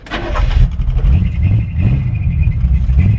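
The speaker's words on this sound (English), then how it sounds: "You can hear the transmission shift" A 1953 Chevy 5-window pickup truck on a short drive, its engine rumbling low and close with the pitch dropping and climbing again as the transmission shifts gears, steady and loud throughout.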